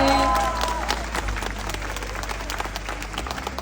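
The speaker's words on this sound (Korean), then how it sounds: "여러분 큰 박수 드릴게요" Concert audience gives a big round of applause for an award winner at a trot music event, dense continuous clapping that stays loud and steady, with a brief tonal sound at the start.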